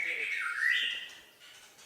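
A murai, or magpie-robin, sings a single clear whistled phrase that rises and falls, close and fairly loud, then tails off into quiet.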